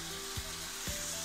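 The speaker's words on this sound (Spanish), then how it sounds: "Por aquí nuestro sartén está caliente ya con el aceite. Vamos a poner los trozos de pollo." Chicken pieces dropped into hot olive oil in a pan, giving a steady bright sizzle with two soft thumps as pieces land, close and continuous over a short stretch.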